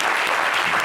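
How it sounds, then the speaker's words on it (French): A brief burst of studio-audience applause on a French-language TV talk show, dense and loud, with no talking over it. "On applaudit pour Mounia."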